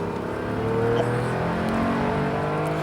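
A Pagani Zonda engine revs at full throttle, a loud, sustained roar that climbs in pitch as it accelerates, heard close and with nothing else over it.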